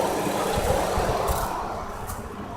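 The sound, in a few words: Chrysler Concorde 2.7L engine running smoothly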